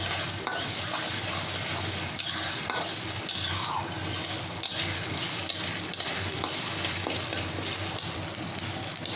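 Ginger and garlic fry with spices in a pan, giving a steady soft sizzle under frequent stirring scrapes and light metal clinks of a utensil against the pan, close by and with no talking.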